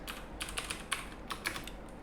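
Keyboard shortcuts tapped on a computer keyboard during spreadsheet work: a handful of soft, separate key presses spaced irregularly over a faint steady hum, fairly quiet and close.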